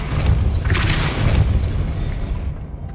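A Depulso spell blast in the Hogwarts Legacy video game bursts out as a deep, booming thump with a bright crackle on top, rumbling loudly for a couple of seconds before cutting off abruptly.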